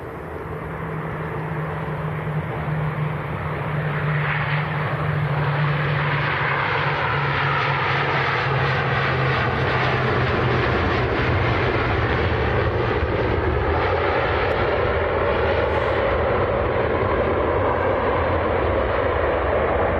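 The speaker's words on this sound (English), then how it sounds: "We're going to have back-to-back ATR arrivals." A Loganair ATR turboprop arrives at an airport, a loud, sustained engine drone with a low propeller hum that slowly shifts in pitch as the aircraft passes nearby.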